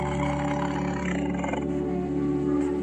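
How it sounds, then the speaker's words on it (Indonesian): Tiger roar sound effect, a sustained low rumbling growl that runs loud and continuous for about three seconds, with no pauses and nothing else audible over it. "akan terdengar auman harimau dari puncak Bukit Raya"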